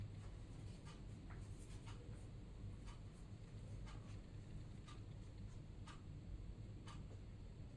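Pen strokes scratch faintly as a maths definition is written out by hand, a soft series of short scrapes spread steadily under a quiet room hiss.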